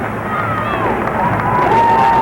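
A standing crowd cheers at a 1986 Illinois State at Bradley college basketball game, a loud, continuous roar of voices filling the arena with a whistle-like tone over it.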